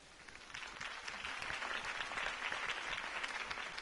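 A crowd claps steadily in the video game Batman: The Telltale Series, a dense wash of applause with no voices, fairly faint and distant throughout.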